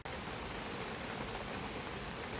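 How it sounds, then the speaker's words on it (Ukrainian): Steady, dense rain pouring down outdoors in a garden, a loud uniform hiss of drops with no voices heard. "Біжимо від дощу."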